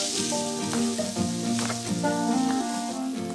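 Carrots and other vegetables are stirred in a sizzling pan with two utensils while cooking salmon. The frying hiss is steady, with light scraping turns, under a bed of background music.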